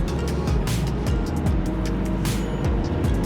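Small car with a 1.2 litre engine straining up a steep mountain road in first gear, a low, labored engine drone heard from inside with repeated pitch sweeps and a steady rumble, loud and continuous.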